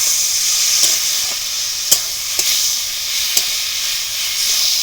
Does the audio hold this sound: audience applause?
no